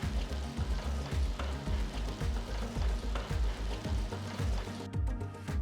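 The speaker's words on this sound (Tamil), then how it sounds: "10 நிமிஷம் நல்லா கொதிச்சு வெந்து வரட்டும்." Ground spice paste simmers and sizzles in oil in a pan on a low flame while cooking for ghee karam dosa, a steady loud bubbling crackle with rhythmic popping throughout and no voices.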